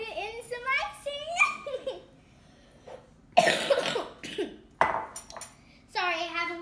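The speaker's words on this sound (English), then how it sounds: "I have a little bit of a cough" Several sharp, harsh coughs burst out between stretches of a child's chatter and light giggling, close to the listener.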